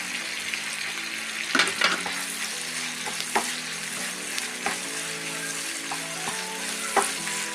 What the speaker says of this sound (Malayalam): കുറച്ച് ഫ്രൈ ആവണത്.